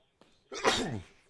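A single close sneeze, a short intake of breath followed by a loud burst, in a quiet room.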